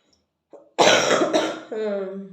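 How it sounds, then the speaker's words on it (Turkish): A short burst of harsh coughing from a person who is ill, loud and close, followed by a voice trailing off into a hoarse, drawn-out vocal sound. "Öksürüp duruyorum. Kusura bakmayın lütfen."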